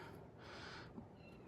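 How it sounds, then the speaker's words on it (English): A pet cat meows indoors somewhere off in the background, one faint, brief call amid low room quiet, with no one talking. "If you do hear meowing in the background, that's my cat."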